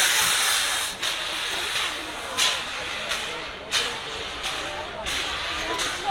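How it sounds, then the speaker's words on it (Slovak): Steam hissing in repeated bursts from the air compressor exhaust beside the chimney of a historic steam locomotive, a broad, steady hiss with short pulses roughly every second, loud and close, with a voice speaking over it. "Tá para, čo vyfúkuje pred tým komínom, je to výfuk z párneho kompresora."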